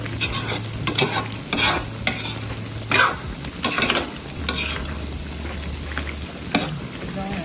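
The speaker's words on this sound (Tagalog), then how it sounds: "Nilaluto na ito yung butter chicken." Butter chicken with browned garlic frying in a pan, a steady sizzle with repeated stirring scrapes and clanks of the spoon, close and loud, with a low hum running underneath.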